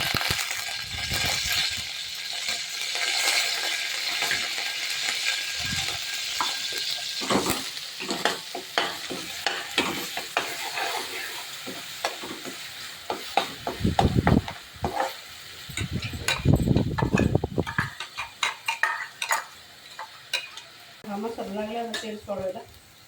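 Curry leaves hit a hot pan for a home-made chana masala and sizzle, then a spoon stirs and scrapes repeatedly with irregular clinks and bursts of frying, close up and fairly loud.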